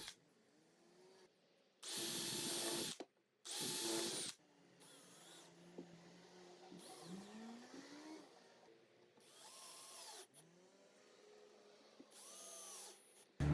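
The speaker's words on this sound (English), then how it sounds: "I drilled countersink holes and attached it with exterior wood screws." A power drill bores countersink holes in wood for a DIY raised planter, coming in several separate short bursts, two loud and others fainter, with quieter handling noises between them.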